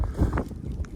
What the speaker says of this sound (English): Now it's windy here.